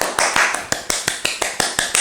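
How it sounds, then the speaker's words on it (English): A single person claps about a dozen times at a steady, even pace, each clap crisp and close, with no other sound between them. "Give yourself a round of applause."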